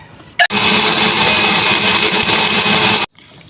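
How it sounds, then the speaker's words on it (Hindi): A kitchen blender whirs loudly and steadily for about two and a half seconds, blending milk, yogurt and pitted dates into a smoothie, with a brief click just before it starts and quiet after it stops. "हम इसे ब्लेंड करेंगे।"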